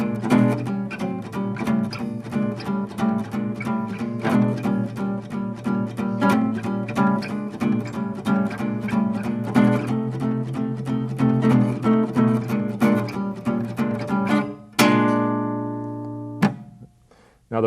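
Swing rhythm guitar strums a 12-bar blues using small chord shapes, steady four-to-the-bar chops played close and clear, ending on a ringing final chord.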